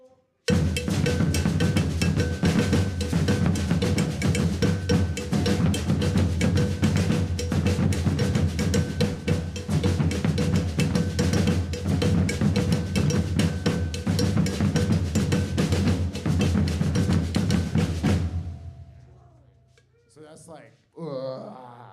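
Samba drum group of hand-signal players hammering out the busy, aggressive trovão rhythm, dense and loud throughout, then cutting off abruptly near the end, leaving a brief tail and a little noise.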